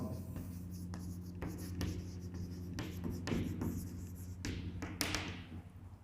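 Pen or marker writing out the definition of the gamma function, with steady scratching strokes and light taps against the surface, close and fairly quiet, with a faint steady hum underneath.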